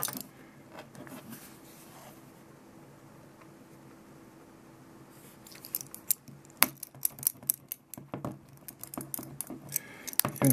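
Front door key scraping and tapping on a tempered glass screen protector on a Samsung Galaxy Note 4, quiet at first, then a series of sharp clicky scratches and taps in the second half, close up.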